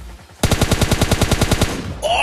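Automatic gunfire in a mobile battle-royale shooter game rattles off as a fast, even burst of about a dozen loud close shots, followed by a brief whining effect.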